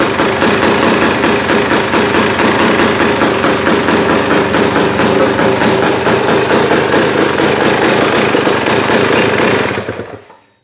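A freshly rebuilt KTM TPI two-stroke dirt bike engine runs loud and close in a garage, a rapid rattling, buzzing idle with steady pulsing, held for about ten seconds before cutting off abruptly.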